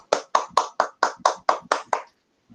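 About nine crisp hand claps in an even rhythm, close and dry, from someone applauding at the end of an online seminar, then silence.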